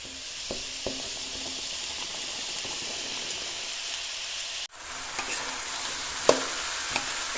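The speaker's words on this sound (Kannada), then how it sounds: "ಈಗ ಅದಕ್ಕೆ ನಾವು ಹಚ್ಚಿಟ್ಟಿರುವಂತಹ ಹಾಗಲಕಾಯಿ ಹಾಕೋಬೇಕು" Bitter gourd and onions frying in a pan give a steady, soft sizzle with occasional stirring scrapes and light clicks, briefly dropping out midway before resuming, with no talking.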